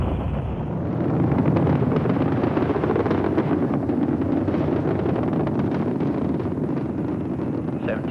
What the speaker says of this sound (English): All engines running. Launch commit. Liftoff.